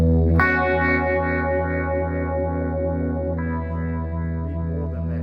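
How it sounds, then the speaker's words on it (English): An electric guitar played through heavy distortion and modulation effects, sustained overdriven chords ringing with a wavering, chorus-like shimmer and a change of chord partway through, with no talking. "Now put some distortion on."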